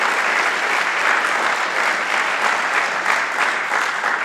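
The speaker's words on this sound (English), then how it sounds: "So another round of applause for them." An audience applauds live musicians, a dense, steady round of clapping that holds at full strength with no break.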